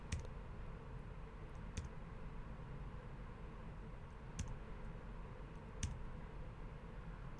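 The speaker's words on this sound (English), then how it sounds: "and we hit the backslash key on our keyboard" A computer keyboard key is pressed a few times, giving faint, sharp, isolated clicks over a quiet steady hiss.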